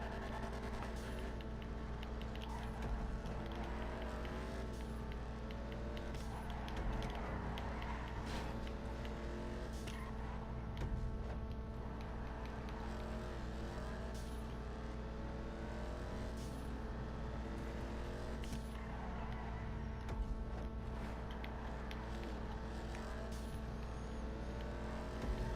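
A car drives through tight hairpin corners, braking in a straight line and then coming off the power, as a steady, fairly quiet engine drone runs throughout with no talking.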